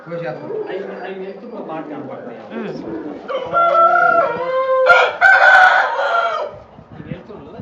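A rooster crows loudly in drawn-out calls over people talking nearby, with other bird sounds mixed in.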